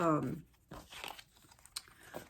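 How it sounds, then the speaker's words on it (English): A new Everyday Tarot card deck is pulled from its packaging: a short burst of speaking voice opens, then soft, close plastic crinkling and brief tearing sounds follow in irregular bursts. "so I'm just going to take it out of the packaging"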